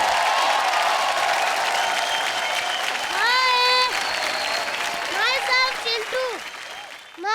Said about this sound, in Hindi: जोरदार तालियां हो जाएं चिंटू और करण के लिए।